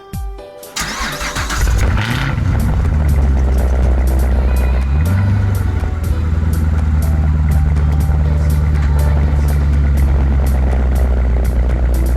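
Chevrolet C7 Corvette Z51 Stingray with headers and an X pipe exhaust cranks and fires up with a sharp roar, then settles into a loud, steady, throaty idle with a rhythmic low rumble.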